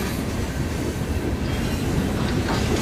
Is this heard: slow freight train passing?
yes